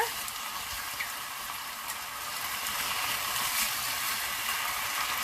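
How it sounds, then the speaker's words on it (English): Meat sears in a hot frying pan alongside cooking onions for a Greek red spaghetti, a steady close sizzle with fine crackle that holds even and slightly swells toward the end, with no talking. "I just want to get a nice little sear on it"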